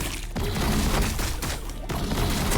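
Heavy gunfire in a Warhammer video game: loud, continuous volleys of shots and booms with brief dips, played close and filling the whole stretch.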